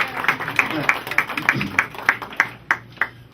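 A gallery-opening audience claps in sparse, evenly spaced strokes, a dozen or so distinct slaps ringing out fairly close in a quiet room with no voices over them.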